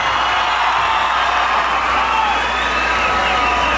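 A crowd at a Mexican horse dance tournament in Cañada de Caracheo applauds loudly and steadily, a dense, unbroken wash of clapping with faint shouts mixed in.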